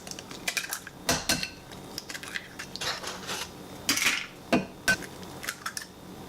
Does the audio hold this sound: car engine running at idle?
no